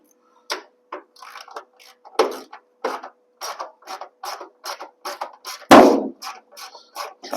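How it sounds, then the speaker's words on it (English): Ratchet wrench with a socket clicks in short bursts while fitting a ball bearing aileron kit on a Vans RV-8 aircraft, close and crisp, irregular runs of ticks with one louder clack near the end. "the ratchet with the socket"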